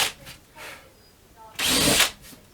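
A drill deburring drilled holes in MDF whirs in short bursts, several brief spins followed by one longer, louder burst, heard close up.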